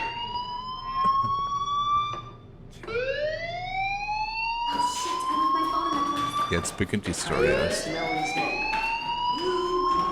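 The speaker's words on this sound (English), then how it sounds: "Hey, do you hear that fire alarm? That means you should be outside." A fire alarm wails in the Life is Strange video game, with repeated rising electronic sweeps cycling loudly throughout while someone speaks over it.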